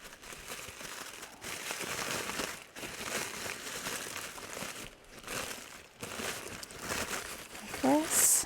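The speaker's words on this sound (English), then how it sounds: "I'm going to crumple it carefully, because it does rip easy" Freezer paper crumpled slowly by hand gives bursts of crinkling and crackling in several waves with short pauses between them, close up and fairly loud, with no talk over it.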